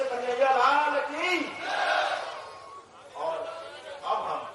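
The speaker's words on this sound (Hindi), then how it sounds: "और एक बार सब जय घोष करेंगे" A crowd at a Govardhan festival gathering at a cow shelter in Gwalior shouts a devotional victory chant to Krishna, many voices rising and falling in loud waves over about four seconds.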